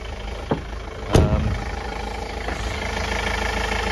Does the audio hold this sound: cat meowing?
no